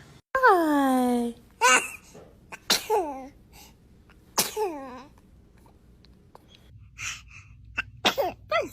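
A newborn baby sneezes several times in a row, giving small, high-pitched squeaky bursts up close, with soft breathy sounds and quiet pauses in between.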